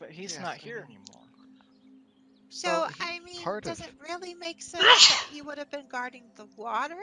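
A single sharp sneeze bursts out partway through, with people talking before and after it.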